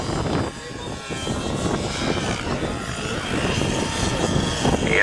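RC model helicopter flying at an outdoor air show, a steady buzzing rotor and engine drone at moderate distance that carries on throughout.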